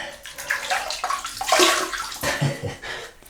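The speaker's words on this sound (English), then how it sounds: "wet the face" Water splashed by hand to wet the face before a shave with a Wilkinson Sword Classic razor, a few close uneven sloshes and splashes with dripping, no voices.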